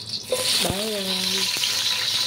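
Garlic sizzles in hot oil for pancit bihon, a steady crackling fry that runs throughout, with a brief voice and a clink of a utensil partway through.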